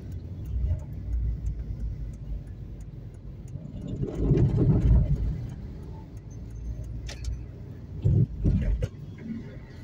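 City street traffic with cars and buses rumbles past in a dense, steady low roar, with a few louder swells as heavier vehicles go by, heard from nearby.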